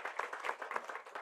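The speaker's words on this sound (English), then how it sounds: "I really think you deserve a round of applause" A seated audience at a BBC Arabic and Frontline Club talk claps briefly and fairly quietly, the applause steady and even over about a second.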